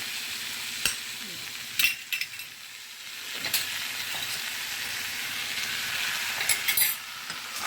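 Ginger-onion paste with chilli sautéing in a pan makes a continuous sizzle, broken by several sharp scrapes and clinks of a spatula against the pan.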